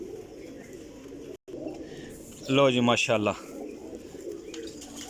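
Champion Teddy Golden pigeons coo in a short burst of low, throaty calls mid-clip, close by, with someone talking before and after.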